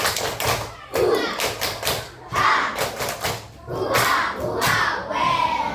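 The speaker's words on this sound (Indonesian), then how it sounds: "Oke, tepuk semangat kelas 5." Class 5 pupils perform a rhythmic spirit clap chant in a classroom, bursts of thudding claps and shouted children's voices repeating in regular groups, loud and close.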